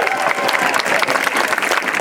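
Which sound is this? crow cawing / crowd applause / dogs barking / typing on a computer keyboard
crowd applause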